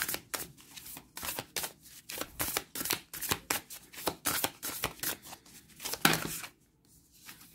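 Tarot cards shuffled and drawn during a Valentine's reading: a steady run of crisp riffling bursts and papery slaps, close and fairly quiet, ending in a final sharp card flick before a short silence.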